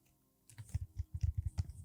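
Quick, light taps on a computer keyboard start after a brief quiet moment and come in a close, irregular burst of keystrokes.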